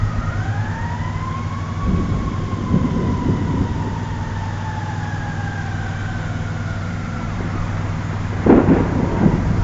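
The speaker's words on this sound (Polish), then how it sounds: "Gdzie zajebisty sztorm, syreny wyją." Thunderstorm with sirens wailing in the distance: two rising and falling siren tones drift over a low, steady rumble of thunder and wind, and a louder crackling burst breaks in near the end.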